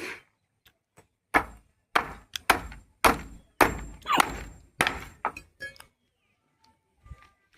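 A hammer drives a nail into a wooden plank for concrete shuttering, giving about ten sharp, close, woody blows in an uneven rhythm, then a quiet stretch with faint clatter at the end.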